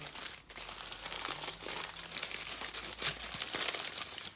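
Aluminium foil crinkled and crumpled while wrapping, a loud, continuous crackling rustle close up that flares sharply near the end, with no voices.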